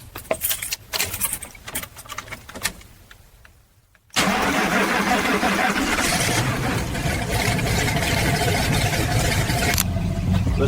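A restored 1969 Chevrolet Camaro engine cranks and catches after quiet rattling, then runs loud and steady near the microphone, holding a full, even idle for several seconds with no talk.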